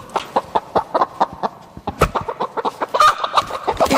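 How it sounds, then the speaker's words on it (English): Several chickens cluck in quick, uneven bursts close by at a poultry research center, a busy, chattering flock with overlapping calls and no talking. "If you've ever been to a farm or owned chickens, you know firsthand that these birds are noisy."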